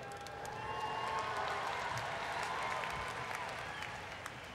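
A large crowd applauds and cheers at a family festival in Philadelphia, a broad, continuous roar of clapping heard from a distance and moderately quiet, swelling slightly and then easing off.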